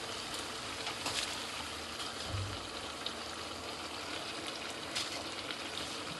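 Basmati rice tipped into a pot of boiling water spiced with garam masala, giving a steady close bubbling hiss with a soft low thump partway through; no one speaks.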